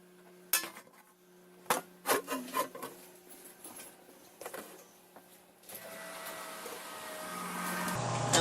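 Clattering and knocking as a glass jar of stuffing is handled and set into an oven, a few sharp clunks followed by a rising steady whoosh of oven fan noise.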